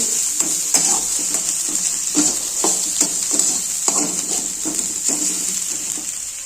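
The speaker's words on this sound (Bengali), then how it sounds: "পেঁয়াজ ভালো করে নাড়ি চাড়িয়ে নেব" Onion stirring and frying in a pan, with a steady bright sizzle throughout and repeated scraping strokes of the spoon at a regular rhythm, close up and loud.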